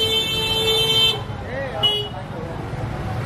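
Heavy street traffic in Old Delhi, a constant roadway roar with a loud, sustained car horn tone and shorter honks, while a person talks over the din.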